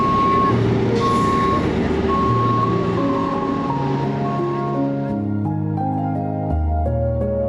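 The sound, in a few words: trucks driving onto a ferry at Mazatlán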